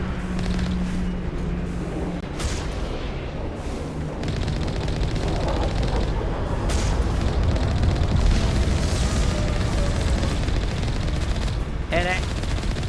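Sustained gunfire and booming explosions from a Mass Effect space battle as a target is shot down, dense and continuous rumble with sharp bursts throughout, loud and constant.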